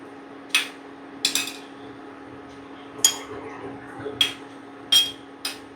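Hot ghee-fried gulab jamun drop one by one into sugar syrup in a home kitchen, making about six sharp, splashy bursts spaced over a low steady hum, with no talking.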